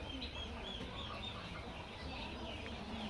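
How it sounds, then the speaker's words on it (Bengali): Brahma chickens, a fancy ornamental breed kept on a farm in Sirajganj, cluck steadily against a dense, busy background of farmyard noise. "ব্রাহ্মা মুরগি এটা শৌখিন মুরগি"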